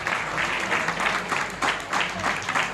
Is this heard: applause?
yes